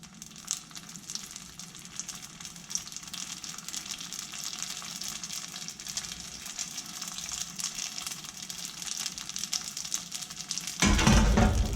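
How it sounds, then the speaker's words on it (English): Gyoza dumplings sizzle and fry in a hot oiled pan, a steady close crackle throughout that swells suddenly louder near the end as more dumplings hit the oil. "So we're going to put the gyoza into the pan."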